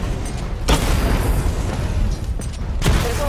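Missile barrage explosions from Batman: Arkham Knight, a dense, rumbling roar with booming bursts near the start, middle and end, thundering continuously with no talking.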